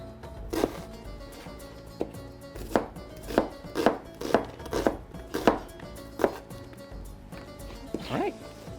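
A knife chops through an onion on a cutting board with about a dozen sharp, close knocks in an uneven rhythm, and soft speech comes in between the cuts.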